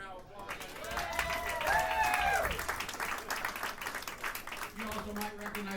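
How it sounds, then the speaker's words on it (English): Audience applause for a saxophone player in a big band show, clapping spread through the room under lingering music and talk, with sustained tones from the band fading in and out. "Give Ann a big round of applause."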